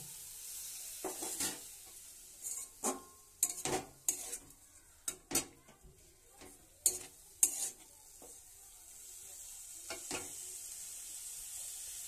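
Korai shak greens with a splash of water being stirred in a pan, quiet sizzling under scattered spatula scrapes and metallic clinks that come in irregular bursts, fairly close and soft overall.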